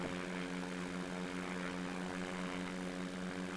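Steady drone of a propeller airplane engine in flight as it climbs toward 3,000 feet, loud and continuous with a strong buzzing hum throughout, no voices.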